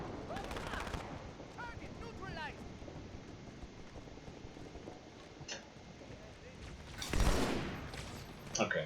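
Battle rifle fire in Halo 2 on Earth's outskirts, with bursts of gunshots early and a loud, sharp volley near the end over a steady background of wind and ambient game noise.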